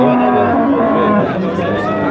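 A low, drawn-out moo rises over a noisy livestock crowd with steady background chatter.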